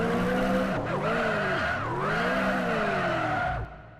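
Drift car in the racing game Uncrashed sliding with a loud, continuous tire squeal and revving engine whose pitch sweeps up and down through the slides, cutting off abruptly near the end.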